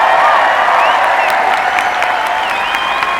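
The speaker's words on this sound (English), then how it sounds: "I would like that everybody give a big applause to him" Audience applause and cheering fill a charity tennis exhibition featuring Andre Agassi and Karen Khachanov, a dense, steady wash of clapping from a crowd with a few whistles and whoops over it.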